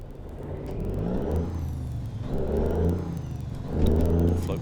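Inside a mid-80s Volvo White truck, the engine rumbles and revs up through the gears in repeated surges with brief dips between shifts. The sound is close and steady, and no one speaks.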